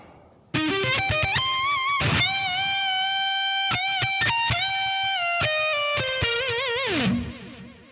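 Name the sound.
electric guitar lick played after an arpeggio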